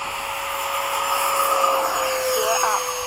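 A McDonnell Douglas F-15 fighter jet rolls for high-speed takeoff, its engines a steady, loud roar with a sustained whine throughout, with no other sounds on top.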